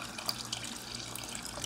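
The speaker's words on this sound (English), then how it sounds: "So this is me washing my rice." Rice is washed in water in a pot, giving a quiet, continuous swishing and trickling of water with small splashes and no voices.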